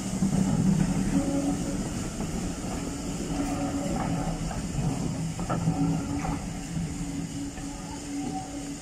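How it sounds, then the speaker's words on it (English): A train rumbles steadily past on the Camel Trail near Bodmin, with a continuous low rolling roar and faint clickety-clack of wagons throughout, fairly close and without talk. "And there goes the train."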